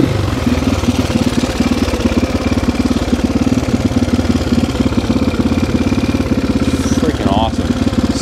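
A 1993 Husqvarna 610WXC motorcycle runs close by with a loud, steady, rapid thumping single-cylinder beat, and a person talks over the engine near the end.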